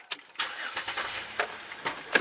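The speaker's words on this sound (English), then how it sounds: "Turn on the car." A car engine cranks and catches outdoors near a bridge at night, with short repeated bursts of starter and engine noise over a quiet background.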